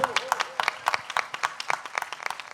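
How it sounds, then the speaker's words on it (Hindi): Sparse, scattered clapping from an audience at a Hindi patriotic poetry recital during a religious katha gathering. The claps come as a thin, uneven patter of individual hand-claps, with a brief voice near the start. "तालियां कमजोर हैं"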